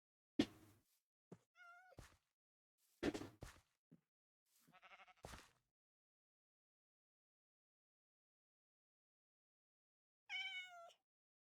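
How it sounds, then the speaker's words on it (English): Several clear cat meows in the Minecraft video game, with short gaps and a silent stretch before a final meow; close, fairly loud, and no talking. "I heard cat."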